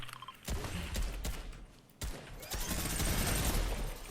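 Gunfire in the video game Fortnite, with a dense, loud burst of rapid shots at about half a second and another sustained volley from two seconds on, all close and crackling.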